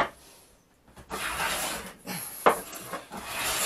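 Hand plane taking shavings across the end grain of a wooden sushi board, heard as a few close, dry scraping strokes with a brief sharp snag near the middle.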